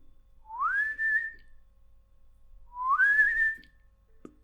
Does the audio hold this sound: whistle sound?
yes